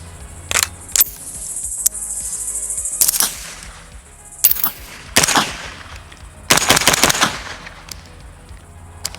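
A suppressed DIY Colt DOE, a Colt build mixing in H&R parts, fires in several separate short bursts and single shots, with quiet handling and reload clatter between strings. Sharp, near and fairly loud, with no talk.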